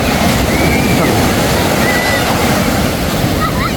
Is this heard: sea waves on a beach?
yes